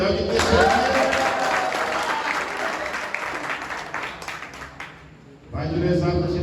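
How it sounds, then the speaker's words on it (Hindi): Audience applause at a district carrom tournament prize ceremony in Muzaffarnagar: a sustained burst of many hands clapping for about five seconds, thinning briefly before swelling again, with voices mixed in underneath. "अगर आपको इनकी परफॉर्मेंस अच्छी लगी है तो ऐसी ताली बजाओ कितनी अच्छी है।"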